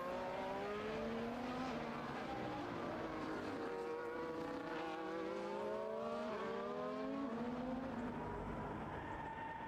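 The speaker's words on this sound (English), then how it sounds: "we see Cooper drifting around the corner again" Racing game car drifting around a corner at the Hungary track, engine tone sweeping up and down in continuous wavering whines, tires and revs blending into a steady loud roar throughout.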